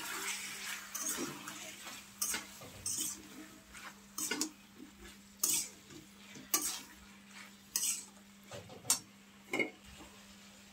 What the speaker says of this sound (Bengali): ঢাকনা উঠিয়ে ভালো করে নেড়ে চেড়ে নিব।